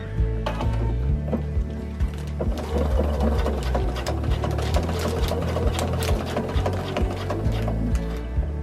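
Sewing machine stitching around the pocket of a fringe delta kite, running steadily and close with a rapid mechanical whir and repeated stitch clicks, no talking.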